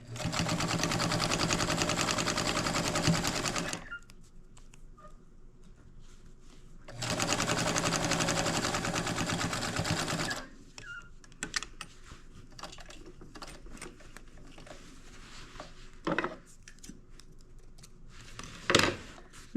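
A sewing machine stitches fabric for a lined coloring bag in two long, loud, steady runs, followed by quieter clicks and handling noises.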